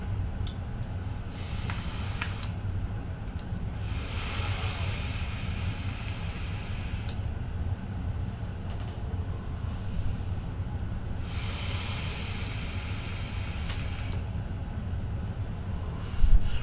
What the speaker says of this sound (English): Let's take this for a vape